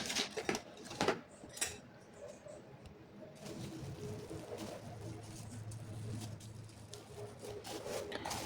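A spoon scrapes and spreads cake filling in a pan, with a few sharp clinks of metal on the pan early on, then steady soft rubbing and smoothing strokes, close and fairly quiet.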